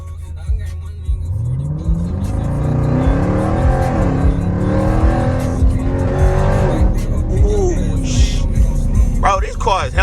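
A Dodge Challenger Hellcat Redeye engine revs and accelerates hard, its pitch climbing through several gear changes, with tire noise near the end and voices underneath.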